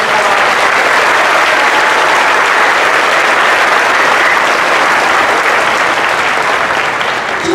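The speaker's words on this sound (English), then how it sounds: "Let's give ourselves a big round of applause." A whole school assembly breaks into loud, sustained applause, a dense steady wash of clapping from a large crowd that carries evenly through the full stretch without a break.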